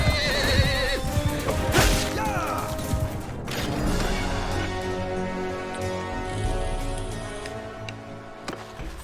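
A horse in the Bannerlord video game whinnies loudly up close, followed by clattering hoof clip-clops and mechanical clanks that fade toward the end.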